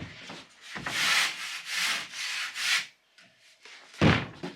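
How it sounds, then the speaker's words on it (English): A hand rasp scrapes along a cut drywall edge in several rough, raspy strokes close by, with short pauses between passes and a final burst of scraping. "I take my rasp and just clean up that edge."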